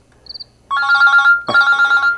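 A cellphone rings in a domestic drama scene, giving a faint short chirp followed by two loud, close bursts of warbling electronic ringtone, with no talking over it.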